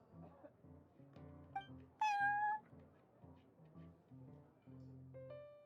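Prince, a cat in the Genshin Impact game, gives a short, bright meow that stands out over quiet background music in a card-game shop setting.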